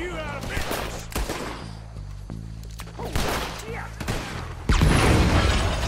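Enemy gunfire erupts in Red Dead Redemption II: loud, sharp shots come in irregular bursts, some in quick clusters, with a heavier volley near the end over low background rumble.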